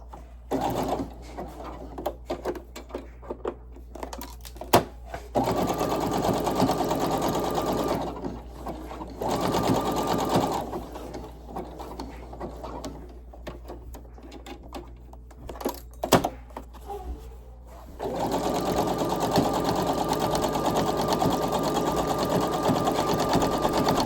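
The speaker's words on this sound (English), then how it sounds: "I'm gonna go and sew the other side of the leg on" A sewing machine stitches the leg seam of upcycled shorts in several steady, buzzing runs of a few seconds each, separated by quiet pauses with light handling clicks.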